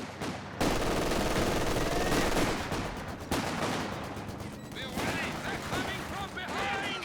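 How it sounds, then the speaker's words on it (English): Machine gun fire in the real-time strategy game Company of Heroes 2, dense rapid bursts and scattered shots rattling continuously at moderate loudness beneath a commentator talking. "Here comes a flank on the machine gun now."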